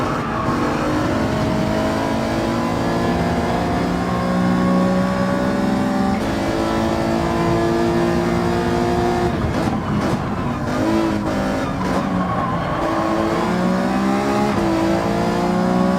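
Old Alfa Romeo race car in Gran Turismo 7, its engine revving hard and steady throughout with loud rising and falling harmonics as it shifts gears, a brief burst of tire noise midway and no voices.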